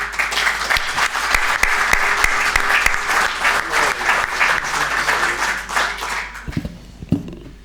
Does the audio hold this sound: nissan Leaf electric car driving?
no